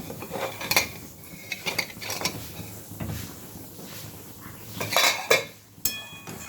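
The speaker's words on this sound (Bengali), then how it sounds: "এবার ঢাকাটা খুলবো।" Metal pot lid clanks and scrapes as it is lifted off a pot of simmering masoor dal, with several sharp close clinks and rattles over low kitchen background noise.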